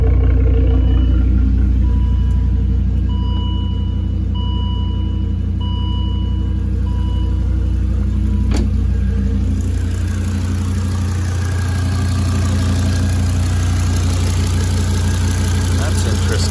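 Volvo T5 turbo engine from a 2010-2018 model idling with a misfire, a steady low rumble running continuously and close by, with a faint higher whine above it and a brief click partway through.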